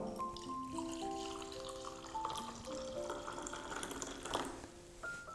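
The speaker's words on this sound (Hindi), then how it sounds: "एक के अंदर मैं सिर्फ पानी डाल रहा हूँ" Plain water is poured into a small cup, a quiet, continuous trickle with faint ringing tones as it fills.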